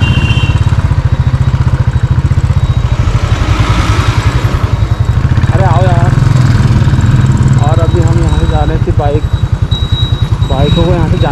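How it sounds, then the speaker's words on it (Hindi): Motorcycles ride on a mountain road in Uttarakhand near Bhimtal, their engines making a loud, close, throbbing drone that pulses steadily throughout while people talk over it. "बाइकों को यहाँ से जाने दे रहे हैं"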